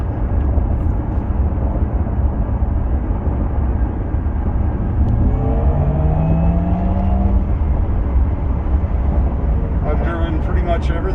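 A Porsche Taycan Turbo S electric car accelerating hard: steady rushing road and wind noise with a faint electric whine rising in pitch midway, while someone talks over it throughout.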